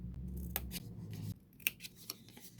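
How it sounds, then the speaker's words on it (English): Scissors cut paper for a handmade papercraft stationery pack, giving close, soft snips and slicing rasps in a few separate strokes, quiet and alone. "So this is how you're cutting this piece. You're cutting at an angle here and at an angle here."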